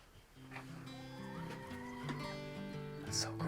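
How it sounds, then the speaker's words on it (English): Hens clucking and calling inside a large, custom-built chicken coop, close and steady across the whole stretch, with the odd sharper squawk rising above the rest. "we're gonna go inside this massive chicken coop right here."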